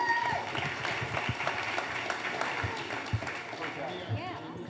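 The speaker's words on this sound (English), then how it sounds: "Give them a round of applause." A seminar audience gives a round of applause for panelists, sustained clapping spread through the room, moderately loud and even.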